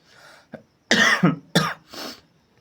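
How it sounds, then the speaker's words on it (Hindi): A teacher in a spoken class-12 English lesson coughs several times in quick succession. The coughs are close and loud, with a raspy, throat-clearing quality, and short silent gaps fall between them. "भैया खांसी बहुत आ रहा है"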